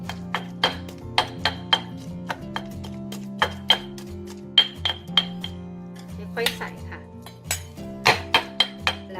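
Minced pork and garlic pounded in a mortar, a run of sharp clinking knocks in an uneven rhythm, close and fairly loud, with a background hum.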